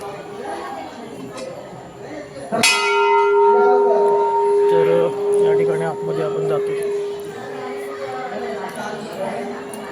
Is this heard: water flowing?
no